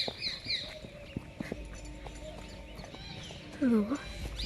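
A mare walks over soil, her hooves clip-clopping in a steady rhythm nearby while a person talks over the sound.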